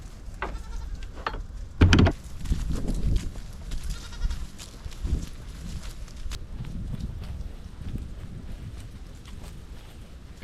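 Several goats bleat and call out on a farm, with one loud nearby bleat standing out amid scattered fainter cries, hoof steps and general yard noise.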